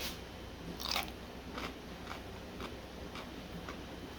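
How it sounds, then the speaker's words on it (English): A crunchy homemade dill pickle, chilled in the fridge for a couple of weeks, gets bitten into: one loud crisp crunch followed by a few softer chewing crunches at a steady rhythm, close up and alone over a faint background hiss. "I'm going to test out one of the pickles I made a couple weeks ago, same way, see if it's still got any crunch to it."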